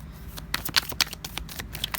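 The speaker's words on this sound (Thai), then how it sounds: "มาขัดมาสับไพ่กันนะ" A deck of tarot cards being shuffled close by, heard as a quick series of crisp riffling bursts with short gaps between them. No speech is heard.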